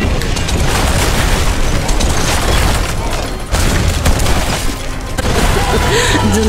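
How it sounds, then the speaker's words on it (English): Ship cannon broadsides firing in the naval battle game Battlewake: a dense, loud barrage of overlapping booms and blasts that rolls on continuously, with only brief dips between volleys. "Get those broadsides on them."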